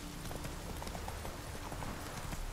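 Horse hooves clip-clop at a steady riding pace in The Witcher 3, a soft rhythmic patter of hoofbeats under constant game ambience, fairly faint and continuous.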